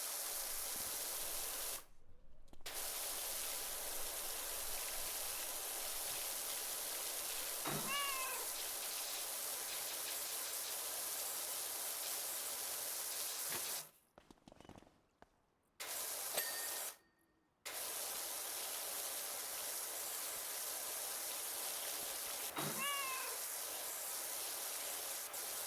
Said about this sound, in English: Why do you have cats